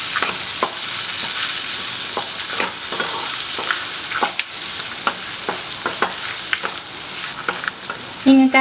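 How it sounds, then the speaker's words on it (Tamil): Tomato sautéing with onion and garlic in a pan for a spicy chutney gives a steady sizzle with frequent scraping stirs of a spatula, close and continuous with no talking. "இப்போ ஒரு தக்காளி சேர்த்துக்கலாம். இதையும் நல்லா வதக்கிக்கோங்க."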